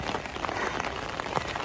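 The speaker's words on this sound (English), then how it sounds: "it's wet and raining" Steady rain falls on a wet highway, a dense even hiss of drops spattering on the surface, close and continuous with faint scattered pattering and no talking.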